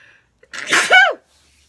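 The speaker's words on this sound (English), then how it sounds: "I have to sneeze" A single loud sneeze with a short breathy intake and a sharp, explosive release, in an otherwise quiet space.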